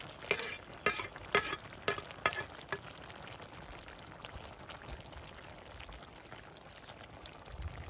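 Mughlai chicken curry stirred in a sizzling pan: a handful of distinct spoon scrapes and clacks early on, then a quiet, steady frying sizzle.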